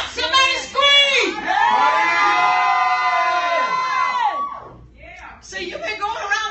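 A church congregation screams and shouts together at a worship service, a loud sustained crowd roar with whoops and yells that dips briefly before swelling again.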